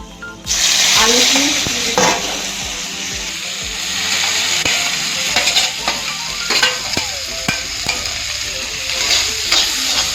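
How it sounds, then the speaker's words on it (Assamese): Potatoes hit hot oil in a wok with a sudden loud sizzle that keeps crackling, while a spatula repeatedly scrapes and clanks against the metal. "আলুখিনি অকণ ভাজি ল'লে টেষ্টটো ভাল আহিব"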